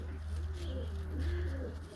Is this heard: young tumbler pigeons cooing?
yes